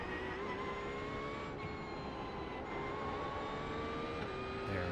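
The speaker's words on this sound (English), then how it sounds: "Blue flag. You have a Porsche closing." A Porsche race car in an iRacing sim closes in from behind, its engine a steady, loud, high-pitched drone with a faint rise in pitch across the whole stretch.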